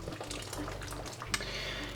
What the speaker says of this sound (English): I'm draining a little bit out of the water